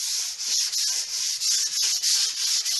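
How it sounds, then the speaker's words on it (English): Hand sanding of an MDF repair with 180 grit sandpaper gives a steady, close, scratchy rubbing made of repeated back-and-forth strokes with brief dips between them, and no voices. "I give this a final rub down now using some 180 grit."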